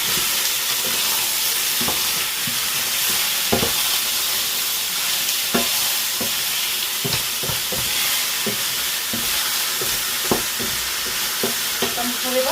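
Meat frying in a hot pan, a steady sizzle with repeated sharp crackles and scraping stirs throughout, close and fairly loud with no talking.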